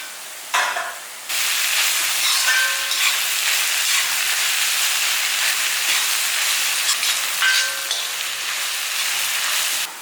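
Three slit green chillies hit hot oil in a pan for Kerala pepper chicken, setting off a loud, steady sizzle and hiss that carries on without pause after a brief quieter start.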